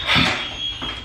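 An apartment fire alarm sounds a steady, high-pitched electronic tone throughout a brief moment, with faint rustling and room noise beneath it.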